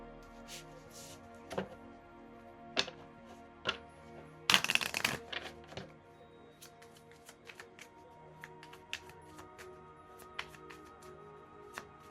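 Tarot cards being shuffled by hand, a series of soft riffling flicks and slaps at close range, with one louder, longer burst of rapid shuffling near the middle, over a quiet room hum.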